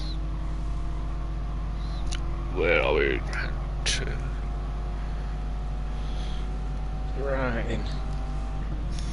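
A Dodge Viper in a racing video game rolls down the pit lane, giving a quiet, low, steady engine drone throughout. People talk over it at moments.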